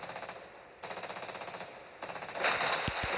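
Rapid automatic gunfire from an enemy bot ship in the naval video game World of Warships Blitz, fired in fast repeated bursts that stop briefly and resume. A louder blast swells near the end. No one speaks.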